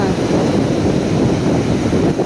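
Big ocean waves crash and surge during a super typhoon with monsoon rains, a loud continuous roar of surf churned with gusting wind buffeting the microphone, steady throughout with no pauses.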